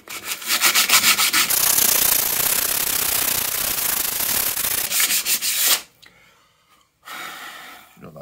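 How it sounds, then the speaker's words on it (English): Rhythmic, scratchy rubbing of sandpaper on wood, loud and close, steady strokes that stop briefly before resuming. "Right, let's try this sandpaper then."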